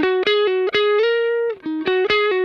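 Dry electric guitar through a Kemper Profiler with reverb off picks a short, fast melodic line of clean single notes, each cut off sharply with no lingering echo or room ambience.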